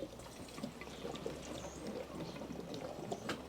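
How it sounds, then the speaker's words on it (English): Fresh fuel pours into the tank of a Hayter 56 lawn mower, a soft, steady liquid trickle close by, quiet and continuous for a few seconds with no talking. "Put some fresh fuel in that tank."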